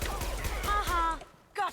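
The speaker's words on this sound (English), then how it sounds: "I love how nobody just hears this gunfire happening." Gunfire in the video game Mass Effect 2, a rapid run of shots with a dense burst of rattling reports that cuts out briefly before a final short burst, heard up close.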